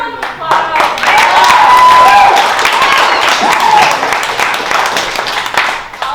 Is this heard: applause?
yes